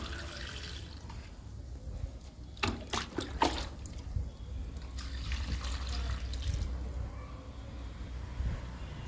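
Aloe vera liquid poured onto two tulsi plants, heard as a soft trickling splash with a few brief louder spurts against a low steady background, without talk.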